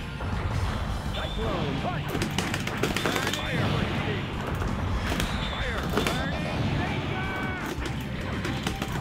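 Rapid gunfire and crashing hits from the Gundam Battle Assault 2 fighting game crackle in dense bursts, layered under shouted voices and game effects.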